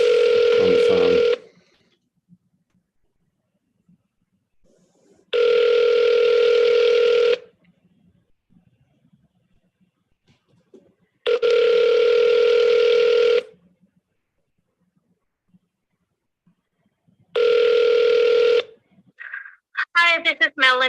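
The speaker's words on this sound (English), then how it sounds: "Let's see if I can get somebody there on the phone." Telephone ringback on an outgoing call to a realty office: four long, evenly spaced tone bursts separated by silent gaps, clear and close, followed by the start of a recorded greeting voice.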